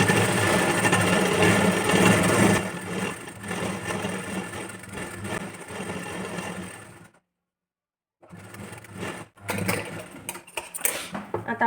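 A sewing machine stitches a strip on a princess-cut, boat-neck blouse, running in a loud continuous whir that eases off and falls silent, then restarts in shorter, choppy bursts.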